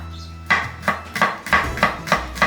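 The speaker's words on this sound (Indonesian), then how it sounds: "Okay, cutting up the garlic." A knife chops garlic for an Indonesian stir-fry on a cutting board, six or seven sharp, evenly spaced cuts landing close and distinct.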